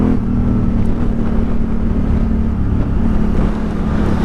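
Engine of a T7 adventure motorcycle held in a third-gear wheelie, a loud steady drone with buffeting wind noise throughout.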